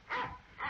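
A dog in an old French film gives two short, muffled barks, a fairly faint pair spaced under half a second apart.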